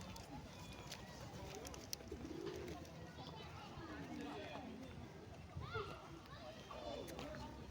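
Pigeons coo softly outdoors during a visit to a kangaroo park in Australia, faint murmuring calls spread through low ambient noise with a few brief knocks and rustles.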